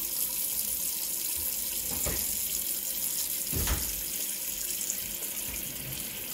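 Water runs steadily from a kitchen tap into a sink, a continuous close rushing stream with a couple of brief clunks partway through.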